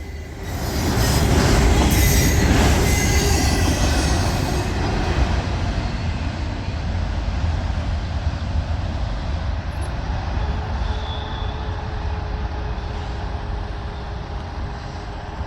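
An SD60E diesel locomotive and its train roll past on the rails with a loud, sustained rumble and wheel squeal, peaking early and then staying as a steady roar of passing cars.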